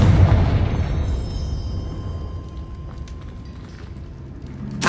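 A fiery Confringo spell blast in Hogwarts Legacy gameplay: a loud booming explosion right at the start that trails off into a long, rumbling decay, with a faint sharp pop near the end.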